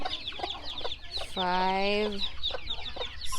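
A free-range mother hen clucks among her chicks with short scattered calls and one longer drawn-out call, while a voice speaks close by.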